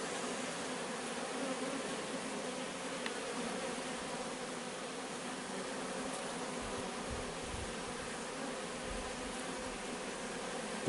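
Honeybees buzz at a hive entrance, a dense continuous droning hum of many insects, fairly soft and even throughout with no voices.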